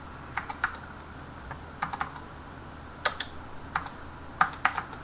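Keys clack on an MSX home computer keyboard that needs cleaning, in scattered short bursts of a few presses with pauses between, close and crisp over a quiet hiss.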